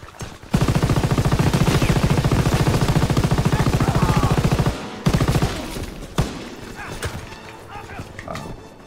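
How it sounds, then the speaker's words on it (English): A mounted machine gun in Call of Duty WWII fires a long, rapid, unbroken stream of loud shots, then stops abruptly before a few scattered later bursts, with a voice talking faintly. "Wait, we can just use the MG."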